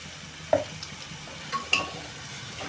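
A spoon works turmeric, cumin and coriander powder through a pan for a pea dal with ridge gourd. A few faint scrapes and light clicks sound over a quiet, low sizzle.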